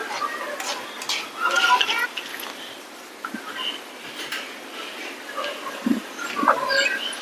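Grated coconut frying and being stirred in a pan, with scraping and clinking of a spatula against metal in bursts, plus light sizzling, while someone talks throughout.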